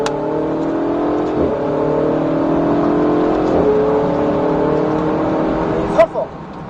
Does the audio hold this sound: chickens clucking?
no